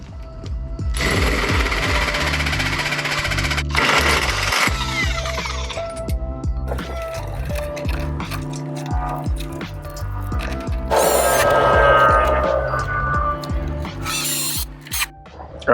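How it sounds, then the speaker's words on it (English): A 2-inch hole saw cuts through the bumper of a Chevy Astro/GMC Safari van, loud grinding and chattering in long bursts with brief pauses and clanks between them, up close. "yeah, it's a 2-inch hole saw"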